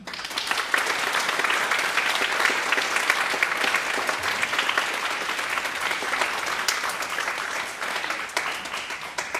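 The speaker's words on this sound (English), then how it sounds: "can we have a round of applause, including from middle school percussionists, for Mr. Fukushima." A middle school spring concert audience applauds with steady, dense clapping that fills the room for the whole stretch and tapers slightly near the end.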